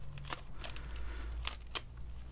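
A few quick, crisp snips of small scissors, spaced irregularly, close and quiet against a low hum.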